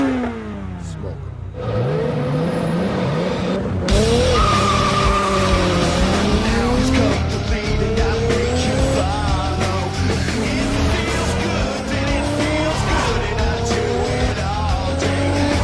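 Orange Toyota Supra screeching its tires in film chase scenes, loud squeals and sliding pitch sweeps over revving engine and music, continuous throughout.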